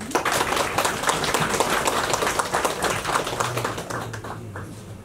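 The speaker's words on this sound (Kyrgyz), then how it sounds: "Кол чаап койбойсуңар." An audience at a staff gathering claps hands, a steady patter of applause that thins and fades out toward the end.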